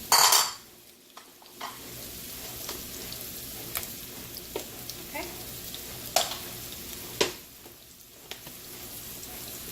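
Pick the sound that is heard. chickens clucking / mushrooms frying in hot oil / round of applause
mushrooms frying in hot oil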